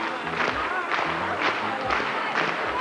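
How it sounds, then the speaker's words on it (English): A studio audience claps in loose unison during a Simon Says game on a talk show, with rhythmic bursts of hand-clapping rising and falling. Talk and crowd murmur run underneath. "everybody clap."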